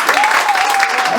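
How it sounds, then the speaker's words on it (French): Brief burst of audience applause at a 60th birthday party evening, a dense steady patter of many hands with a voice briefly heard over it. "je voudrais qu'on l'applaudisse très fort"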